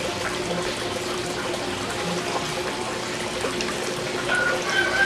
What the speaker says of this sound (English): become an actual siphon and siphon all the water down